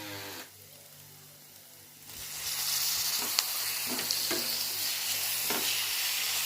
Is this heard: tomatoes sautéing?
yes